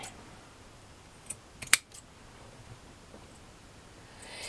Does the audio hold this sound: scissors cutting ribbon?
yes